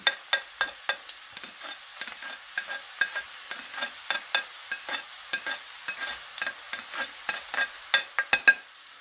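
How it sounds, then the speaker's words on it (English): Onion goes into hot oil for a kofta curry and is stirred, producing a series of sharp scraping taps over a faint sizzle, close and irregular throughout. "So I'm going to add onion into hot oil."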